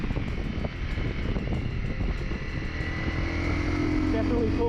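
Honda CRF Rally motorcycle engine pulling steadily while riding, a continuous loud drone with rising engine tone and wind rush, heard up close from the rider's position.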